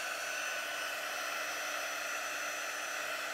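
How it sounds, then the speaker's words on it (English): A hair dryer blows steadily on wet Chalk Couture paste, producing a constant, fairly loud airy whoosh with no break. "So I'm just drying it."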